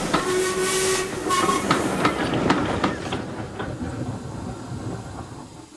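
A steam engine whistle sounds from a distance as a heavy goods train rumbles past with rhythmic clatter and hiss, loud at first and then fading steadily.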